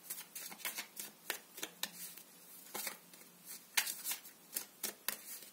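Tarot cards shuffled by hand in a quiet room, a steady run of crisp riffling bursts and soft flutters, close and fairly quiet with no talking.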